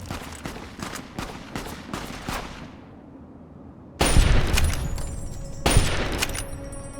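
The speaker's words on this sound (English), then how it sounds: "Shooting off the weak ones so I can get experience for killing them." Gunfire in the game Fallout (Tale of Two Wastelands) as weak enemies are shot down: a rapid string of shots fades into a pause, then two loud, close bursts of fire follow.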